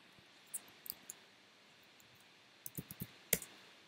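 An IP address is typed on a computer keyboard during a Jenkins server setup on Ubuntu, with sparse, faint, quiet key clicks in small clusters against near silence.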